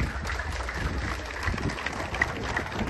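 An audience at a Haitian pastors' conference gathering applauds, a steady wash of many hands clapping at moderate loudness for a few seconds.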